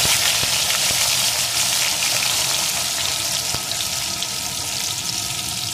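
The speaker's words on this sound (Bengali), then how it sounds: "আলুটা লাল লাল করে ভেজে নেব" Cut potato pieces fry in hot oil in a pan after small fish have been fried, giving a steady, dense sizzle with faint crackles throughout, close and fairly loud, with no talking.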